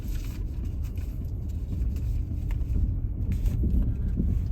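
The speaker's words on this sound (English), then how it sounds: "As I'm going down here, there is a little slippage, and the brakes are engaging and disengaging." A Ford Bronco Sport Big Bend 4x4 eases downhill on a dirt road. Its engine drones low and steady with tires crunching over gravel, and the brakes engage and release as the wheels slip a little.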